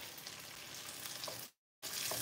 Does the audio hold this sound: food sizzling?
yes